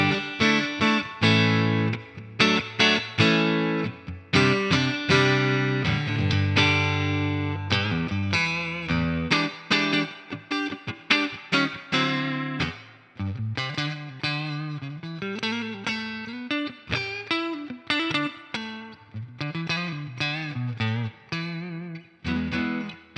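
A Fender American Professional Classic Stratocaster played on its neck pickup through a Deluxe Reverb amp: clean, ringing single notes and short chords with sustained tails, played alone in an irregular phrasing.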